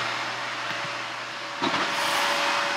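A loud vacuum cleaner drones continuously with a steady whine under its hiss, and there is a brief bump in level partway through. No one speaks.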